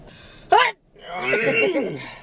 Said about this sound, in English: Achoo! Woo! Sorry, excuse me.